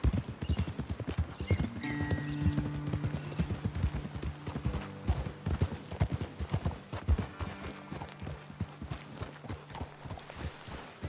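Horses trot and gallop in the video game Red Dead Redemption 2, a steady, rhythmic clip-clop of hooves up close with a few whinnies and snorts layered over a constant hoofbeat pattern.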